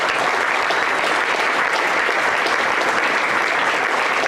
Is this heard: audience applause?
yes